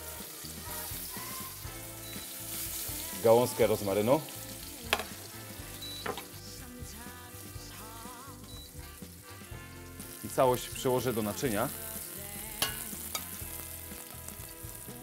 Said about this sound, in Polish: Tak przygotowanego kurczaka obsmażę na złoty kolor